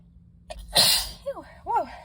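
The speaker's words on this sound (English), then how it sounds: "But a sneeze." Single loud, close sneeze triggered by dusty books, a sharp burst followed by two short breathy gasps.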